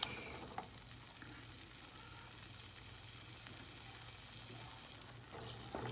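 Onions frying in oil for a Kerala fish curry, a steady soft sizzle with occasional light stirring scrapes, close up and continuous with no talk.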